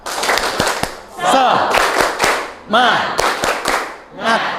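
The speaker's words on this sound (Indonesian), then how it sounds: "biar lebih bersemangat kita akan adakan tepuk semangat" Schoolchildren in a classroom perform a rhythmic spirit clap, groups of sharp, close claps in a set pattern alternating with bursts of shouted chanting from the class.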